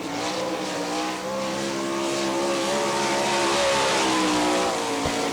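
Sprint car at speed on the Gibsonton, Florida track during All Star Circuit of Champions Winternationals action, a loud steady engine drone with rising and falling pitch filling the whole stretch, no voices.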